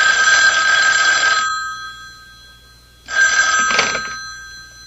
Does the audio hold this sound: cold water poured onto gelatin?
no